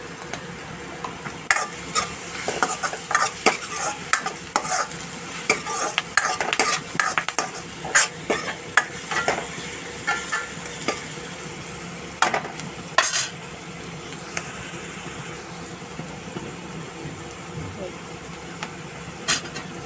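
Chilies sautéing with asafoetida and turmeric in a pan, a steady soft sizzle under repeated scrapes and clinks of a spoon stirring against the metal, with a person talking at times.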